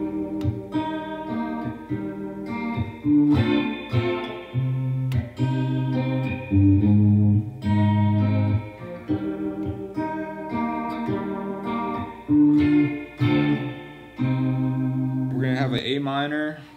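A Les Paul electric guitar with a capo plays a fingerpicked lead part, plucked notes and chords ringing in uneven phrases with effects and light reverb, close and loud, ending in a brief scrape.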